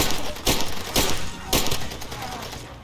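Pistol and assault rifle gunfire in the jungle shooter Far Cry 2, with a few sharp, loud shots spaced about half a second apart over a constant noisy background of gunfire and ambience.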